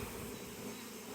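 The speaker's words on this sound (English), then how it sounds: "foraging bees are starting to climb out of it, starting to fly around" A steady, dense buzzing of many honey bees at close range, continuous and even without breaks.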